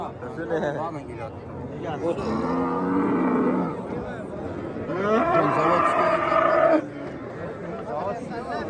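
Cattle low in drawn-out calls at a busy livestock bazaar in Kattaqo'rg'on, two long moos rising over a crowd's steady chatter and background voices.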